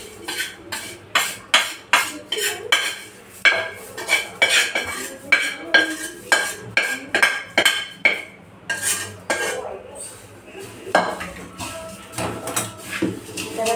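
Puffed rice being tossed with spices in a turmeric-stained kadhai, the spoon scraping and clinking against the metal in a steady rhythm of sharp, close strikes, slowing and softening toward the end.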